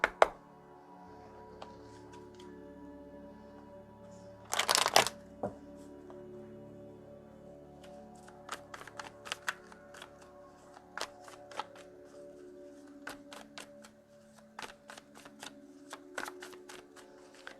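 Tarot cards are shuffled in a quiet room: one loud riffle burst, then a run of sharp, irregular snaps and flicks as the deck is handled.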